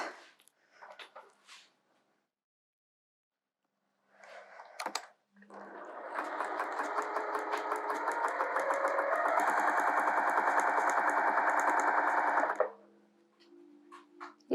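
A sewing machine stitches a quarter cabin quilt block, running steadily for about seven seconds with a dense mechanical whir after a few scattered handling clicks, then stopping; its needle is due for replacement.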